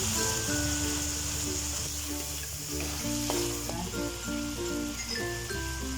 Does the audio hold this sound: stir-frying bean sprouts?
yes